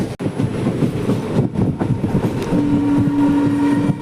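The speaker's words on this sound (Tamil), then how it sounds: "பார்த்தீங்கன்னா லோக்கல் ட்ரெயினிங் எல்லாம் கிராஸ் ஆகிட்டுருக்கு பொறுமையாக." Local trains roll past on a railway line near Tambaram, a close, continuous rumble and clatter of wheels with a brief sustained horn-like tone partway through.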